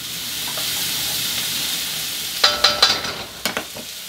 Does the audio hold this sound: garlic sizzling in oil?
yes